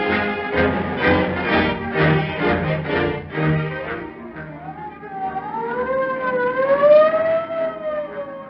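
A police car siren wails loud and close, its tone sliding up and down in long sweeps in the second half after a stretch of other loud, dense sound.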